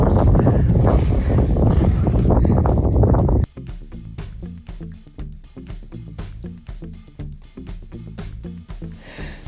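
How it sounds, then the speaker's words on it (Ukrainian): Heavy wind buffeting the microphone with a loud, roaring rumble for the first few seconds, then dropping to gusty outdoor noise. "дуже вітряно сьогодні"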